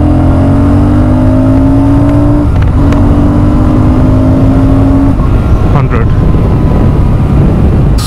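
A Royal Enfield Super Meteor 650 motorcycle pulls hard in second gear from about 60 km/h, its engine note rising steadily and loud close by, with strong wind rush over the microphone throughout.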